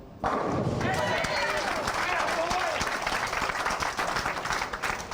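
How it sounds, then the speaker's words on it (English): Hometown crowd at a bowling alley cheers and claps during a Beat the Champ match: dense, loud applause starts abruptly and holds steady throughout, with voices shouting over it. "Getting a little loud in here, got the hometown crowd going."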